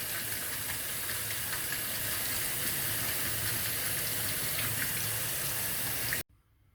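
Cold water runs steadily from a kitchen tap over split peas being rinsed in a sink, a continuous close splashing hiss that stops abruptly near the end.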